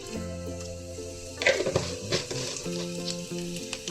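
Cumin seeds sizzle in hot coconut oil in a pan, a close, steady frying crackle with a stirring scrape partway through, under a faint background hum.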